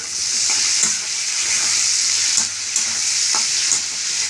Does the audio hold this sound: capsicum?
yes